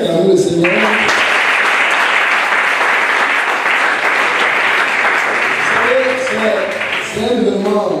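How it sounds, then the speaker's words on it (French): A church congregation at a baptism and disciples' graduation service breaks into sustained, loud, dense applause filling the room, with a voice speaking at the start and end. "On continue d'acclamer le Seigneur."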